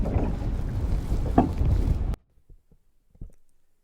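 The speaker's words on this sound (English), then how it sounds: "Really bad with the wind. The audio was awful." Heavy wind buffets the microphone with a loud, rumbling roar for about two seconds, then cuts out to near silence with a few faint knocks.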